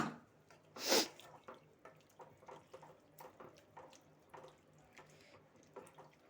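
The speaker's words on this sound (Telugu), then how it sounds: "కొన్ని వాటర్ వేసుకుందాము." Water poured into a pan of mixed vegetable curry with potato and capsicum lands as one short, loud splashing burst, followed by soft scattered crackles and drips as the pan settles, with no talk.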